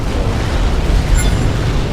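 Continuous loud rumbling blasts with deep booming noise, dense and roaring throughout, like synthetic explosions, from the space combat game Between the Stars.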